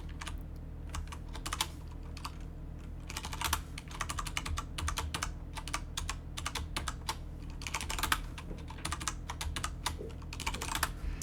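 Code is typed on a computer keyboard in rapid bursts of close, crisp key clicks separated by short pauses over a faint steady hum.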